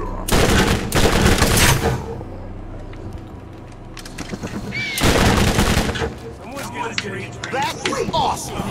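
Bursts of gunfire in the video game Borderlands, loud rapid volleys in two main clusters separated by quieter stretches of game ambience, with speech-like voices faintly present.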